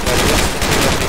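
Gunfire in the tactical shooter Project Reality: a dense, continuous burst of loud automatic shots filling just over a second, harsh and close.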